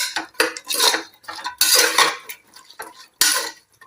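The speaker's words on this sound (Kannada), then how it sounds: "ಇವಾಗ ಒಂದು ಅರ್ಧ ಸ್ಪೂನ್ ಹಾಕಿ ಚೆನ್ನಾಗಿ ವೆಜಿಟೇಬಲ್ನು ಈ ಮಸಾಲೆ ಒಟ್ಟಿಗೆ ಮಿಕ್ಸ್ ಮಾಡಿ" Vegetables and masala are stirred in a metal pan, a spoon scraping and clattering in several loud bursts separated by short pauses, with no talk.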